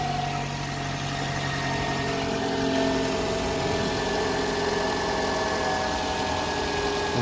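A 2013 Toyota Camry engine idles steadily and evenly after a starter replacement, a loud, constant, close hum with no talk.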